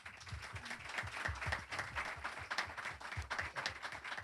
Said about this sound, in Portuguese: eu gostaria uma salva de palmas por esse projeto